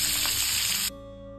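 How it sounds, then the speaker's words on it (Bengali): Prawns fry in hot oil in a home kitchen while cooking a prawn curry with cauliflower, giving a steady close sizzle that cuts off abruptly, leaving a quiet hum. "এবারে চিংড়ি মাছটা ভেজে নিচ্ছি"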